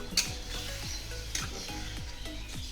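Fish curry with potatoes sizzles in a pan as a little water goes in, a steady close frying hiss broken by several regular scraping stirs.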